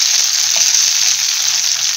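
Paneer pieces frying in melted butter in a pan, a loud, continuous, hissing sizzle heard up close with no talking over it.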